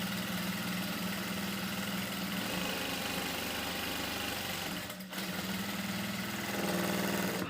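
A sewing machine runs steadily while stitching a kameez seam, giving a continuous close mechanical whir with a short pause around the five-second mark before it resumes a little louder.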